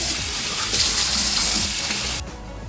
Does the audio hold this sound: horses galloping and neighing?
no